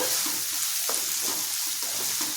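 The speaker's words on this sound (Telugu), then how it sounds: "బాగా వేగాలి. మూత పెట్టుకుని వేపించుకుందాము." Carrots and capsicum sizzle in a pan for a mixed-vegetable omelette, a steady hissing fry with occasional stirring scrapes, close and continuous, with no talking.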